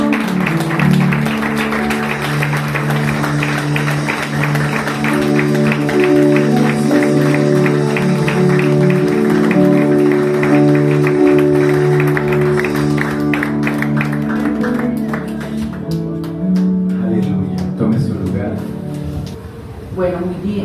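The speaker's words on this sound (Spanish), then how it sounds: "Y levanta ese fuerte aplauso," Loud applause during a church service, steady clapping from the congregation under singing and a speaking voice, fading out near the end.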